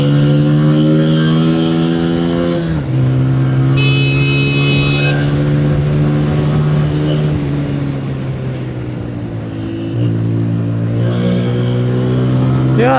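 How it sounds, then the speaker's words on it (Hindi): A Honda 125 motorcycle engine revs and accelerates loudly up close on a bypass road, its pitch rising and dropping with gear changes, with traffic noise around it. "थोड़ा सा खींचते हैं बाइक को।"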